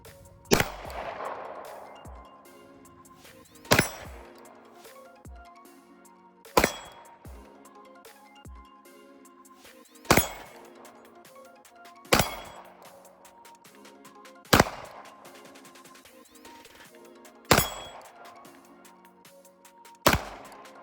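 A Glock 19 Gen 5 9mm pistol fired at steel targets outdoors, with eight loud, sharp single shots spaced a few seconds apart, each followed by a ringing metallic ping and a short decaying echo, nearby and without talk.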